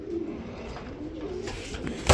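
Soft, low cooing from fancy pigeons repeats a few times, close and gentle, ending with a brief louder rustle.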